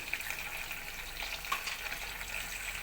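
Cumin seeds sizzling in hot oil in a kadai, a quiet steady crackle and hiss with a few brief pops, close up and without talk.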